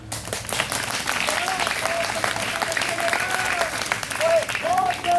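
A school crowd claps loudly and continuously after a street play at a government middle school, the applause steady and close, with a voice faintly sounding over it.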